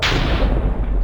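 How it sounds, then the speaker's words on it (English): Thunder from a thunderstorm, a single loud, deep booming rumble that fills the moment and fades slightly, with no talking over it. "soon to be interrupted again by an annoying tantrum from the thunderstorm"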